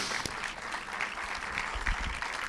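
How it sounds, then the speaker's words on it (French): An audience applauds a film director at a screening event, a soft, fairly distant patter of clapping hands that stays even throughout. "On peut l'applaudir."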